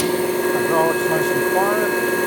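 The hydraulic system of a Thompson 8x24 grinder runs with a steady, quiet mechanical hum and a constant tonal whine, close by, while a person talks briefly over it.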